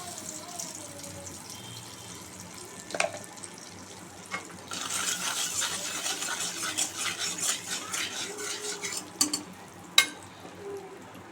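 Hot oil in a kadai sizzles after salt and turmeric are added before frying prawns, a hissing wash that swells midway and holds, with scattered utensil clinks and a sharp tap near the end.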